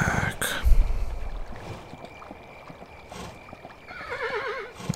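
A horse in the video game Kingdom: New Lands whinnies near the end, a wavering, rising and falling neigh over a steady ambient wash of wind and soft hoof movement.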